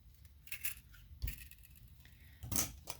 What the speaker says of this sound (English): And then we're going to snip off the wire